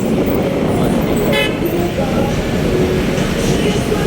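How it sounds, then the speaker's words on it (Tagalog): A bus horn blares once in a short, sharp blast over the constant roar of heavy traffic on EDSA in Manila. "Busina yung driver sa likod. Busina ng busina."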